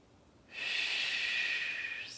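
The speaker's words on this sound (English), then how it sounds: "let's get a few inhales and some nice steady exhales" One long, steady breath during a seated yoga twist, a close airy hiss that starts abruptly and holds evenly for about a second and a half before tailing off, with no talk.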